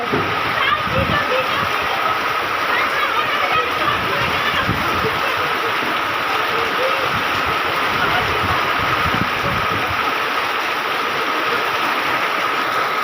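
Heavy rain pouring at a village home at night, a dense, steady hiss of falling water and splatter running unbroken throughout, fairly loud and close, with faint voices underneath.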